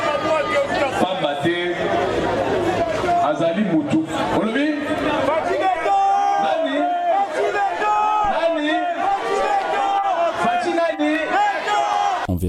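A dense crowd of supporters at a political rally in Kinshasa chatters and shouts continuously, loud and close, with many voices overlapping in a lively babble.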